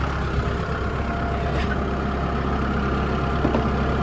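A Kubota X1140 tractor with a tiller loaded on it runs steadily nearby, a loud, even diesel drone with a heavy low rumble and no pauses.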